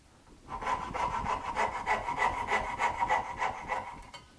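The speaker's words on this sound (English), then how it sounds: "And saw right across the baseline." A Knew Concepts fret saw with a thin fret blade cuts across a baseline in wood, giving a quick, even rhythm of rasping back-and-forth strokes, close and fairly loud, with no talking.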